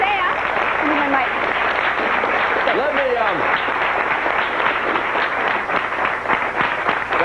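Studio audience applauding at a 1994 network launch morning show, sustained dense clapping at full loudness for several seconds with a few cheers and voices mixed in.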